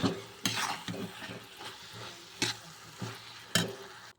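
Soya powder is stirred into a simmering ridge gourd fry curry, a soft sizzle punctuated by a few sharp spoon scrapes and clanks against the pan.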